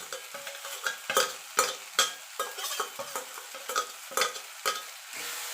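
Bean mash being stirred with fried dried chilli and onion, a spoon scraping the pan in quick irregular strokes over a soft sizzle, close and moderately loud with no voices.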